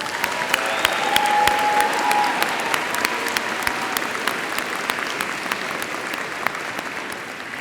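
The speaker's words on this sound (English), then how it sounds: "let's give her one more round of applause" Audience applause at a university winter graduation ceremony, a sustained dense round of clapping from a large crowd with distinct individual claps, fairly loud and slowly easing off toward the end.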